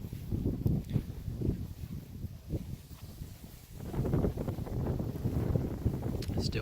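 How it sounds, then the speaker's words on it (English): Wind blowing through an outdoor garden with tattered banana leaves, gusting low rumble and buffeting against the microphone, growing stronger partway through, fairly faint overall. "It's still windy today."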